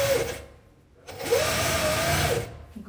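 A sewing machine runs along a pillowcase seam with a wide seam allowance, whirring in two steady bursts with a brief slowdown between them; close and fairly loud, no talk.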